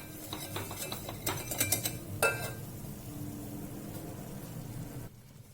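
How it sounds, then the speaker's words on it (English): A spoon stirs wheat flour roasting in butter in a pan, scraping and clinking against the metal in a quick irregular rhythm before settling to a soft low sizzle, fairly quiet and without voices. "cook the wheat flour in butter for around a minute"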